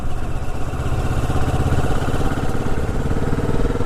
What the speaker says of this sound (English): And now I slowly let the clutch back out and roll on my throttle again